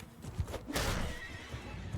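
Horse in the Mount & Blade II: Bannerlord video game gives a short, loud whinny over battle noise and hoof clatter, with no voices.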